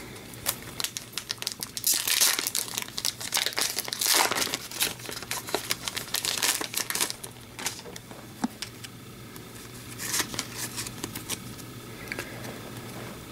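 A foil wrapper on a 2015-16 Upper Deck Tim Hortons hockey card pack being torn and opened, loud close crinkling and crackling in bursts with brief tearing sounds, then quieter rustling.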